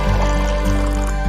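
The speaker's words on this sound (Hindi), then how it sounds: "उसमें पानी भर के ले आती है" Water filling a clay pot, a steady close, loud gurgling pour with a rising resonant tone, heard alone without voices.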